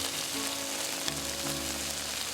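Ketchup and tonkatsu sauce sizzle in a pan over medium heat, a dense continuous hiss and crackle, close and steady for a couple of seconds.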